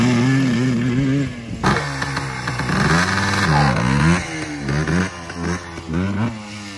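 A Yamaha Blaster ATV engine revs repeatedly, rising and falling in rapid bursts with clutch work between, loud and close, alone without talk.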